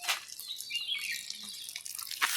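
Water from a pipe pours and splashes steadily onto freshly planted brinjal seedlings, a close, continuous rushing sound with small irregular drips and no talking.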